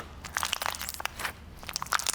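Giant puffball slime gives a series of close, crisp crunches and crackles that come in short bursts, with no talking.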